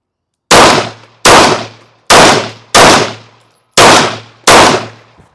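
Six sharp pistol shots from a handgun fitted with a Cyelee Shark Pro red dot sight, fired at a steady deliberate pace during an El Presidente shooting drill, each loud crack ringing out with a short decay and no talking.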